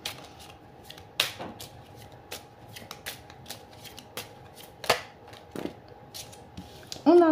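Tarot cards being shuffled and drawn, with a run of quiet, crisp card flicks and slaps scattered irregularly over several seconds, close to the microphone, against a faint background hum and a brief voice near the end.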